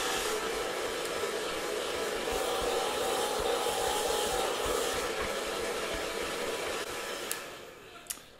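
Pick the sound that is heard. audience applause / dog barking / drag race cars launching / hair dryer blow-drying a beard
hair dryer blow-drying a beard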